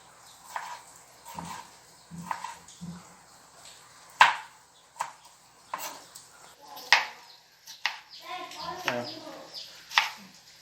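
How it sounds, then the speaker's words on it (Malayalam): A knife cuts tomatoes into thin slices on a cutting board while preparing Thalassery-style chicken dum biriyani, a series of soft, irregular taps and clicks under someone speaking. "4 തക്കാളി ഇതേപോലെ കട്ട് ചെയ്യാം."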